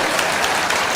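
An audience at a Tamil stage debate bursts into a dense, steady wash of clapping that fills the whole brief moment, loud and continuous.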